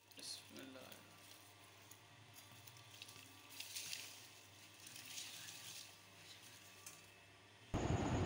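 Rice poured into a pot of water at a rolling boil, cooked with a little cumin for a village-style biryani, giving a soft steady bubbling and watery hiss that ends in a louder splash near the close.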